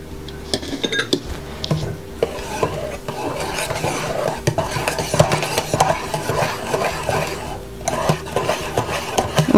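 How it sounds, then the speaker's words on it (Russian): A utensil folds whipped egg whites into a curd mousse in a bowl, making continuous soft scraping and clinking against the bowl with an irregular rhythm, close and moderately loud, with no talking. "Теперь мы сюда потихонечку будем вмешивать наши белки."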